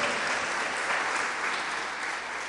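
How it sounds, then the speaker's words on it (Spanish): A church congregation claps together in praise, a dense, steady wall of applause filling the room, loud and unbroken throughout. "Démosle fuertes palmas al Señor."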